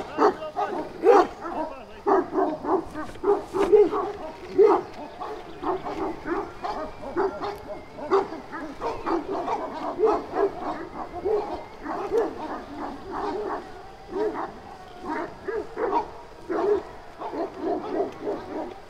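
Dogs on a Grohotiș mountain road bark at a passing electric bicycle in a long, steady run of sharp barks and yips, fairly close and persistent, with occasional whimpers mixed in.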